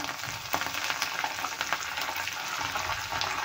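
Curry leaves dropped into hot oil with asafoetida and crushed garlic, a loud, close crackling sizzle with sharp pops and stirring clicks over a steady hiss, no talk heard.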